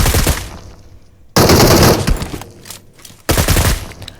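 Gunfire in the mobile battle-royale game Free Fire: loud, dense bursts of rapid automatic shots in three clusters separated by short pauses, crisp and close with no talking.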